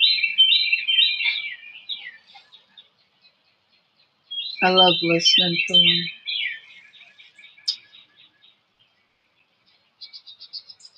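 Birds sing outdoors, including cardinal, jay and dove, in bright repeated chirps and whistled phrases with pauses between, while someone speaks briefly in the middle.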